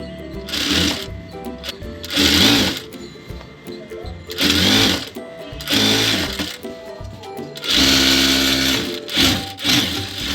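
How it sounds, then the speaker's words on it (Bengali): A sewing machine stitches elastic onto salwar trousers in loud, close bursts of rapid needle whirring. The bursts are separated by brief pauses, with fabric handling between runs. "রাবারটা এরকম সেলাই করে আটকে নিতে হবে"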